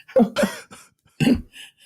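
Two harsh, phlegmy coughs close by, the second coming after a short pause, each followed by a faint raspy breath.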